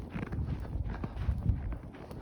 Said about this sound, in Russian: Вот они, лошади наши